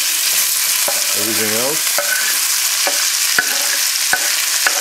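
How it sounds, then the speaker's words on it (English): Beef filet sizzles loudly in a smoking-hot pan as it is stir-fried with peppers, onions, pineapple and ginger, a steady broadband hiss broken by sharp clacks of utensils and a brief short word spoken over it. "So we slide the beef in. You can hear the heat."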